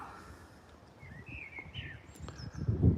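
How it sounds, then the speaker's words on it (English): Real birds sing outdoors with thin, high chirps and short warbling phrases scattered over steady low background noise, growing slightly louder near the end. "The birds are singing."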